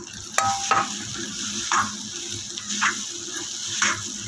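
Mashed potato with amchur powder and turmeric is stirred and roasted in a pan for bread pakora, giving soft scraping stirs and a light sizzle with a few louder spoon strokes, close and without talk.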